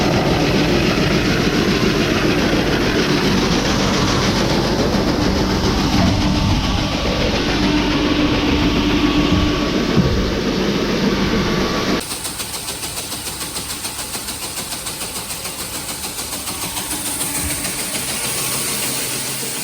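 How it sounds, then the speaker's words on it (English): A loud, steady mechanical drone of a tractor-powered hydraulic auger running a mobile seed cleaner continuously, dropping slightly in level partway through, with no talking. "We use the hydraulic power from the tractor to run the auger."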